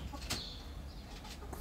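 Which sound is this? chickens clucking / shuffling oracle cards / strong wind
chickens clucking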